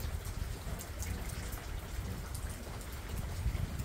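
Steady rain pours onto potted orchids set out in the open in Jacksonville, Florida, a dense, even patter of drops that continues without a break, with no voices.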